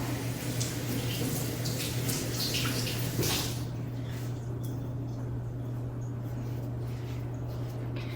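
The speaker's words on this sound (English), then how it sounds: "So let me just wash a big handful of these." Sprouts being washed under running water, a strong splashing hiss for the first few seconds that then drops to a quieter trickle with scattered small drips, no voices.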